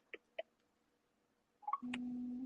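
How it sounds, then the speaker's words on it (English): Seeing AI app on a phone plays its light detection tone: two short soft beeps, a brief chirp, then a steady mid-pitched tone sustained to the end, quiet and close. "We should hear a tone as soon as I unlock the phone."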